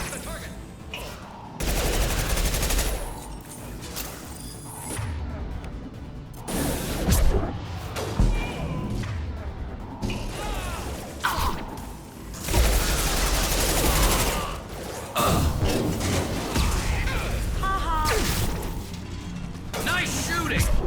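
Gunfire from Mass Effect 2 on PlayStation 5, dense bursts and crashing impacts of a firefight running continuously and loudly, with voices talking over the shooting.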